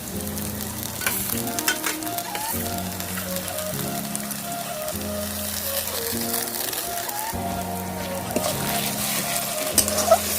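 Ginger paste fries in a pan for mutton curry, a steady wet sizzle with scraping stirs, while sustained background music plays throughout.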